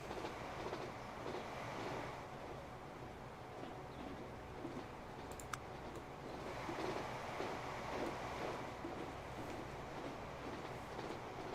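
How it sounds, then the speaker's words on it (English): High-speed bullet train in Transport Fever 2, able to reach 186 miles per hour, rumbling steadily along the track with a continuous rolling roar and faint clatter, heard alone without talk. "It's basically a bullet train."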